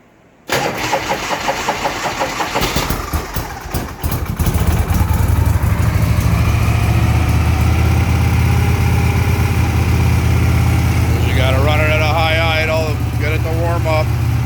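A 1982 Harley-Davidson FLHP motorcycle cold-starts after a few weeks sitting, cranking briefly before catching and settling into a loud, steady, close idle with a rumbling throb; a voice briefly speaks near the end.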